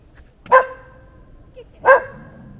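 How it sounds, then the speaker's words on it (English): Two sharp, close barks from a dog, spaced about a second and a half apart, with quiet in between. "She's barking at me."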